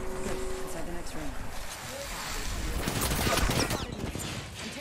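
Dense exchange of gunfire in an Apex Legends match, rapid shots layered into a continuous loud clatter with game effects, while a voice talks over part of it.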